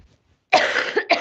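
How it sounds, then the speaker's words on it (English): A single harsh, close cough from an adult indoors, with a second short cough following right after. "Bloody cough."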